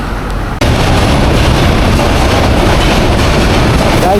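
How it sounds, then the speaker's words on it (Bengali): A train rumbles past close by, a loud continuous roar with rattling wheels after a brief quieter start. "পথের মধ্যে ট্রেন যাচ্ছে কি সুন্দর একটা দৃশ্য"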